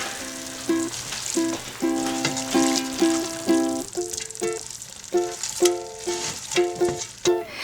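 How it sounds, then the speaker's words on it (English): Onions frying with ground beef and tomato paste in a pan, a steady close sizzle broken by repeated stirring scrapes, with music in the background and no talk. "just put them in with the ground beef and the tomato paste, stir them around, and we want all the juices to cook out here"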